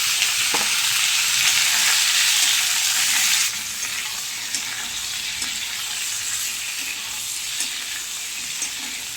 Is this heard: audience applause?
no